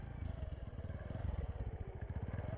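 A motorcycle engine idles and putters close by in an audio drama, with a steady rapid low throb and slight rise in level as the bike turns and pulls up.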